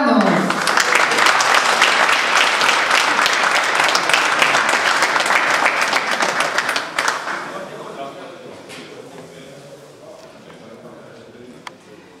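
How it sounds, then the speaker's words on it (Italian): Applause breaks out at a motorsport club awards ceremony in Lecce, a loud dense burst of clapping that holds for about seven seconds, then thins out to scattered claps with faint voices underneath. "E qui non può che scattare l'applauso"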